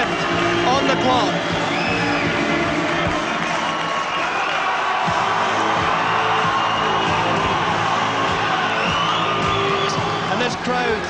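An ice hockey crowd in the Centrum Arena roars and cheers on its feet late in a Euro Hockey League game, a dense, continuous wall of noise with whoops rising through it, while a commentator talks over the top.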